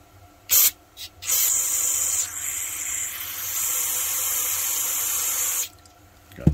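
Bursts of compressed air hiss from an airbrush being cleaned: two short puffs, then a long steady spray blowing out the cleaning fluid, ending abruptly and followed by a small clatter.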